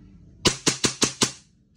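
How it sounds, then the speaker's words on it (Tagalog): A WE T-Rex Hi-Capa airsoft pistol firing five sharp cracks in quick succession, evenly spaced and close, over a quiet background. "Firing, WE T-Rex High Kappa firing."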